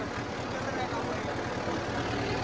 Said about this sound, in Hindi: आवाज़ बहुत ज़्यादा है इस ट्रैक्टर की